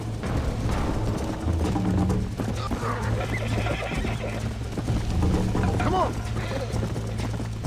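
A horse gallops with rapid, rhythmic hoofbeats and lets out whinnies in the video game Red Dead Redemption, loud and close, while a voice briefly speaks over it.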